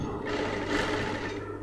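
Sewing machine stitching fabric piping at a garment neckline, a short steady mechanical whir running close and continuous for under two seconds.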